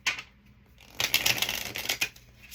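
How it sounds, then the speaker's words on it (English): Tarot cards being shuffled close up, a quiet riffle followed by a louder, fluttering burst of rapid card slaps. "We're going to shuffle."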